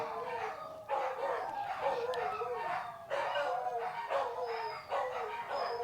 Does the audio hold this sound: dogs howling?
yes